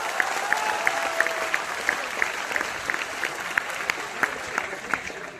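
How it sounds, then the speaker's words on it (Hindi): A crowd of UPSC exam aspirants in Patna applauds steadily and loudly, with a dense wash of clapping and a few sharper individual claps standing out. "पहले तो सबसे जोरदार तालियां अपने खुद के लिए बजाइए।"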